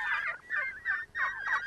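Turkeys gobble on open hillsides, a quick series of about five warbling calls in close succession, fairly near and clear with no voices over them.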